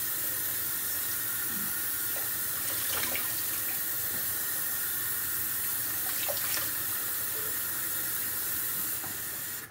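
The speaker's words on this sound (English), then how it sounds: "So I'm washing the mud off my face and my neck." Water runs steadily from a sink tap while mud is washed off a face and neck, a loud continuous hiss and splash with faint irregular splashes throughout, no voices.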